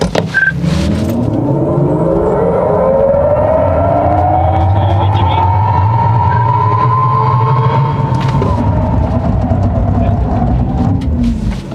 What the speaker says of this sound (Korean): 다음 차량도 출발할게요